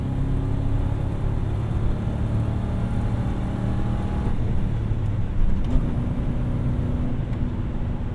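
A manual Ford Crown Victoria engine drones steadily with rev hang, its low rumble holding nearly constant for several seconds with a slight change near the end, heard from inside the car.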